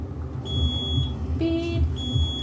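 Electronic tones sound twice in a room, each a steady high pitched beep lasting about half a second, with a brief warbling chirp between them over low background rumble.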